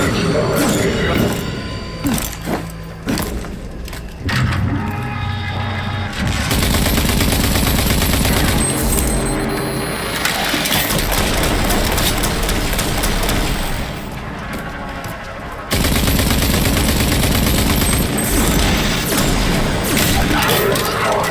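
Automated turrets firing in RAGE 2, a long stretch of loud, continuous machine-gun bursts with mechanical clatter and crashes, interrupted by short gaps, with a voice speaking over the din.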